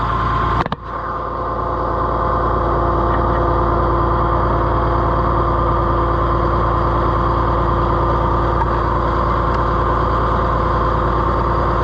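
A heavy diesel tractor engine idles steadily with a low, constant rumble, close and loud, after a brief clunk at the start.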